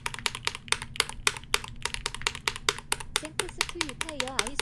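Rapid typing on a keyboard fitted with NovelKeys Silk and Dry switches: a dense, even run of crisp, close keystroke clacks with a brief voice near the end.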